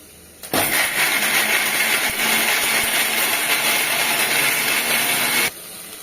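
A kitchen mixer grinder blending avarekalu (field bean) sambar ingredients with turmeric into a thick paste, starting abruptly with a loud steady whirring roar and stopping sharply after about five seconds.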